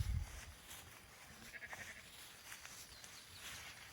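Sheep bleat a few times in a noisy outdoor setting while grazing alongside cattle, the calls moderately loud and somewhat overlapping, with steady background noise.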